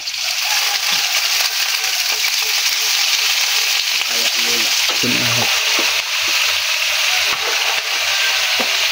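Bottle gourd (upo) hits hot oil with sautéed garlic, onion and spices, producing a loud, steady sizzle close up, with stirring clatter and crackles running throughout.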